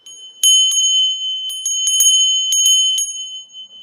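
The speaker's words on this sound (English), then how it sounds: "I'm just going to do the bell." A small bell rings loudly and clearly in a quick series of bright strikes, with two clusters of chimes whose ringing overlaps, and no voices.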